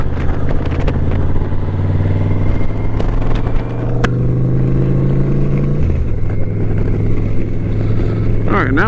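Motorcycle engine rumbles steadily on a mountain road ride near Sassafras Mountain, loud and close, with revs shifting up and down over a constant low drone.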